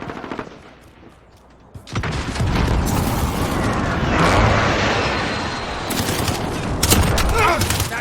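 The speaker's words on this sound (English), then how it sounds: "Enemy precision airstrike inbound." Precision airstrike in Modern Warfare multiplayer: after a quieter opening, rumbling blasts and rapid crackling gunfire erupt and roll on loudly, with sharp impacts near the end.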